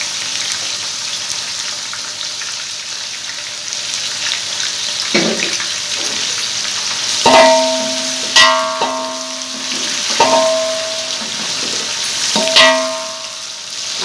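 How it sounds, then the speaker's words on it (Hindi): Onions frying in oil with garam masala and white cumin make a steady, close sizzle, broken by a few sharp clinks of a spoon or utensil against the pan in the second half. "अब हम इसे जब तक इसे फ्राई करेंगे कि ये गोल्डन कलर जब इस पर आ जाएगा"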